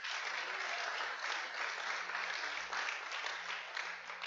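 A church congregation applauds during a Spanish-language sermon, a dense, even wash of clapping that holds steady throughout without pause.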